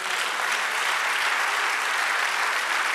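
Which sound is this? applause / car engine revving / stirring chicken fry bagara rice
applause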